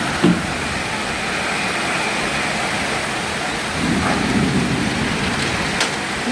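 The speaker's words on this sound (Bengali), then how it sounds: "এখন খুব জোরে বৃষ্টি নামছে, অনেক জোরে নামছে বৃষ্টি।" Heavy monsoon downpour under dark clouds during a hot spell, a loud continuous wash of rain with a low distant rumble and a brief swell midway.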